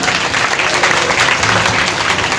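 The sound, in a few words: applause at a Bhagwat Katha religious gathering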